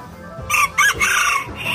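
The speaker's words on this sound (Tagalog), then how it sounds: "Sirama chicken" A serama chicken crows in a few short, close bursts, kept as a pet, standing out clearly over quiet background.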